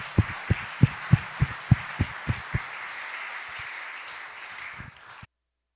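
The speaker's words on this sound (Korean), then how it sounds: "하나님께 영광의 박수를 한번 다시 돌려 올립시다" A church congregation at a Sunday service claps several loud, evenly spaced beats that fade into a softer scattered patter before ending abruptly.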